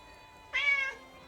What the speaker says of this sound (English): Those cats are a little loud.